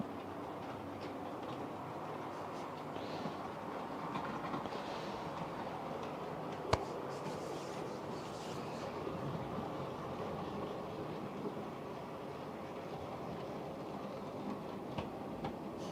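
A sound-equipped model train runs around a home layout, its faint rolling rumble and soft clicking steady and distant beneath the room's hiss.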